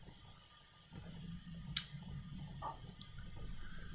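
A computer mouse gives a few faint, sharp clicks, spaced irregularly over a quiet hum of room and computer noise.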